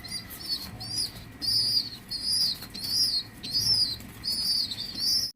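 Pigeons with red eyes and red beaks at a farm flap their wings in repeated bursts, with soft chirps and faint cooing between them; the sounds are close and fairly loud, and nobody speaks.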